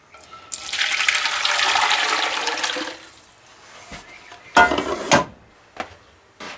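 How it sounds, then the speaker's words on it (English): Mexican shredded beef sauce is poured back into a pan in a steady, rushing liquid stream lasting a few seconds, followed by a few clanking knocks of cookware. "now we're going to take our sauce, pour it back into our pan"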